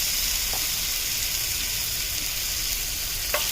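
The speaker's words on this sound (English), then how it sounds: "our oil is nice and hot, so we're just gonna lay our" Lamb chops sizzle steadily in hot oil, a constant close frying hiss with a couple of faint clicks and no talking.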